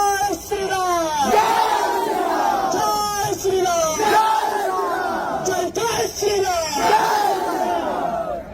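Crowd of Arunachal protesters shouting slogans against the Chakma community in loud, rhythmic chanted bursts, many voices together in a continuous roar with rising and falling calls.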